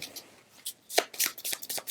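Cards from the After the Virus card game being shuffled close by, in a few quick riffling bursts that are quiet and crisp.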